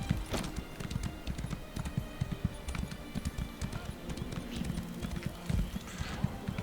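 A horse gallops in Elder Scrolls Online, its hooves clip-clopping in a fast, steady rhythm close by, with light background game noise.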